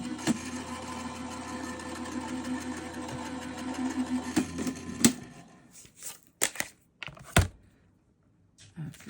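A die cutting machine runs through a stamped gift card sentiment with a steady mechanical whir and hum, close and fairly loud, then gives way to a few clicks and handling sounds.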